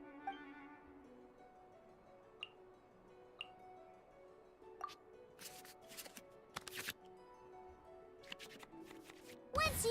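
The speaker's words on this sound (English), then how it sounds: "we can select any number of cards in our hand to shuffle back into the draw pile" Virtual cards shuffle back into the draw pile in the Genshin Impact card game, soft scattered clicks and sharp swishing bursts at irregular moments over a quiet background, ending with a louder flurry.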